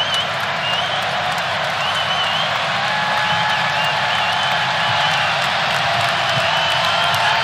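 Loud basketball arena crowd roaring and cheering after a missed free throw at a UAlbany vs. Virginia college game, a dense, steady wall of noise with scattered whoops and clapping throughout, no clear talk on top.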